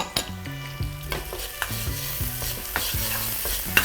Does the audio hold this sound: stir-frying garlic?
yes